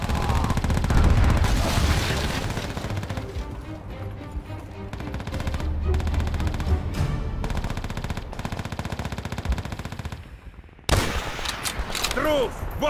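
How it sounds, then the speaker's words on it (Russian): Rapid machine-gun fire and explosions crackle in the World War II shooter Call of Duty: World at War, loud and dense with a brief pause before the battle resumes, mixed with game voices and score. "Стрельба привлечет его внимание."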